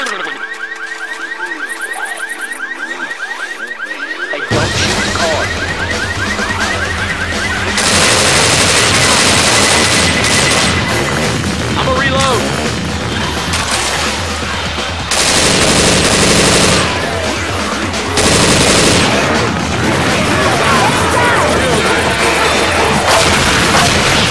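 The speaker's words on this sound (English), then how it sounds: "Throwing a pipe bomb." A pipe bomb thrown in Left 4 Dead 2 goes off amid dense, loud game chaos: sustained gunfire, booming blasts and a shrill beeping tone, all close and continuous with little pause.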